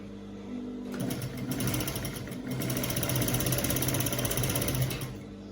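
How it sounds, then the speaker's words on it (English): A sewing machine stitches fabric for a shirt and pants in two steady whirring runs, close and fairly loud, with a brief slowdown between bursts and a faint hum before and after. "So I'm going to stitch."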